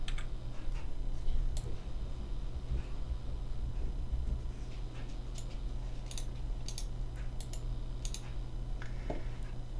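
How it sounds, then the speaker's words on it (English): Arrow keys on a computer keyboard are pressed in scattered light clicks over a steady low hum, with no speech. "I like to use the arrows on my keyboard."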